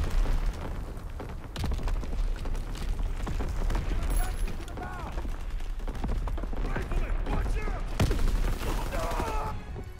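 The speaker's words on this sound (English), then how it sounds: "Artillery, get to cover." Artillery barrage in a WW2 video game: dense, continuous rumbling booms and crackling gunfire with a sharper blast near the end, while voices talk over the battle.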